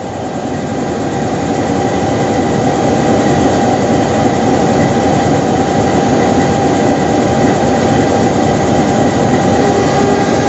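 Baturraden Express passenger train departing the station at night, a loud steady rumble of wheels and carriage noise rolling continuously with faint rail clatter, no voices.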